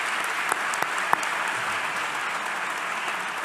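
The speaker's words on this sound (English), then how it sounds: "A big applause for everyone." A large audience at a closing plenary session of an academic conference applauds the organizers and volunteers, a steady, even roar of clapping heard from the room with a few sharper claps standing out early on.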